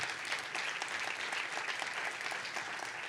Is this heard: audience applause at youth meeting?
yes